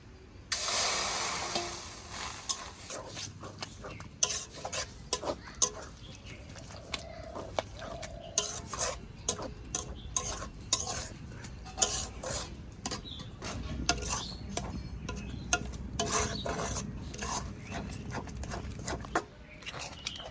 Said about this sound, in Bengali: কাঁঠালের বীজ আর কর্নফ্লাওয়ার দিয়ে মাখিয়ে কড়াইতে দেওয়ার পরে কিন্তু সমানে নেড়ে যেতে হবে, নাহলে কড়ার নিচে লেগে যাবে।